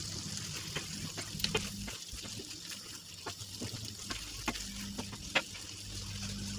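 A filling spiced with chili flakes, thyme, cumin, black pepper and salt fries in a pan while being stirred, a soft low sizzle broken by faint scraping and clicking strokes.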